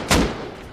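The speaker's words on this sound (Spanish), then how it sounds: "Disparo." A single close, loud gunshot in the survival game Rust, one sharp crack followed by a short fading boom.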